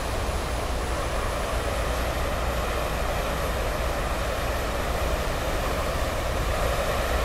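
In a flight simulator, the gas turbine starter of a T-45C trainer spools up during a carrier cold start. It gives a steady, continuous whine over a droning rumble, with a thin high tone that rises slightly at first and then holds.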